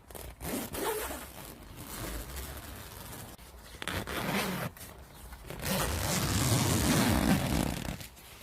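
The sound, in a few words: zipper on Slummit Cub 2 tent mesh door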